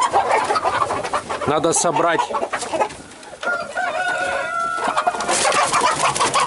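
Several roosters gathered before a cockfight cluck and crow close by, with a drawn-out crow near the middle and scattered bird calls throughout, while someone talks over them.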